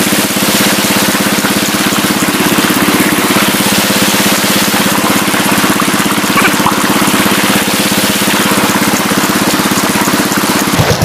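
A farm water pump engine runs continuously and loudly close by, a steady, even mechanical drone with a rapid chugging pulse and no speech over it.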